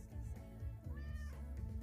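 A cat meows in a Whiskas cat food advert, giving a couple of drawn-out, wavering cries that rise and fall, clear and close over a steady background.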